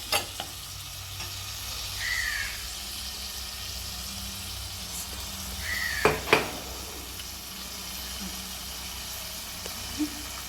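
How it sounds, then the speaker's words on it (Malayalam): A Kerala-style prawn coconut curry is stirred in a pan: a steady, fairly quiet sizzle with occasional scraping knocks, while crows caw a few times in the background. "നന്നായിട്ടൊന്ന് ഇളക്കി കൊടുക്കണം"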